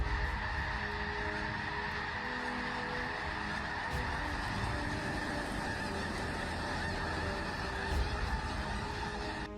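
A flock of birds on a beach honks and calls continuously, a dense, steady chorus of overlapping goose-like cries at moderate distance.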